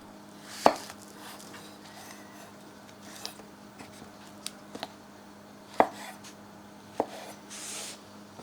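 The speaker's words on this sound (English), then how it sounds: "We are first going to slice our mushrooms, then we'll cut each slice into 3 or 4 smaller pieces." A knife slices mushrooms on a cutting board, giving a few sparse, crisp taps against a quiet room hum, spaced irregularly and heard up close.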